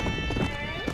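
Horse hooves clip-clopping in Red Dead Redemption: Undead Nightmare, a few quick close hoof knocks in a brief burst, with a voice talking over them.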